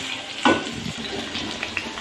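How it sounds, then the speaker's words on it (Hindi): Potatoes fry in a pan with a steady soft sizzle and a brief louder hiss as they are stirred, close and fairly quiet, with no voices. "आलूओं को हम थोड़ा सा फ्राई कर लेंगे"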